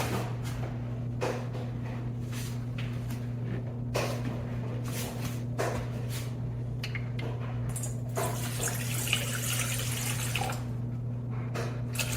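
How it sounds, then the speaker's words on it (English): Tap water runs into a mixing bowl while sourdough dough is being prepared, a steady close splashing stream over a constant low hum, with the pour growing louder and broader near the end. "The first ingredient I put in the bowl is the water."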